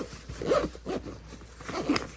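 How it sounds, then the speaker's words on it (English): A zipper pulled closed on a night-vision goggle pouch, several short rasping zips in quick bursts, close and clear. "you zip it closed"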